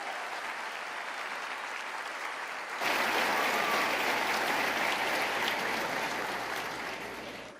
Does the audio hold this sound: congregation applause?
yes